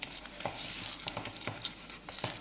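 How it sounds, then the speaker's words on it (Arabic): Sauce with flour being stirred in a pot while cooking stuffed peppers: a constant hot sizzle with rhythmic scraping strokes of the spoon repeating about twice a second, close and clear, no voices. "لهنايا نحرك بعد ما درت لا شابلور"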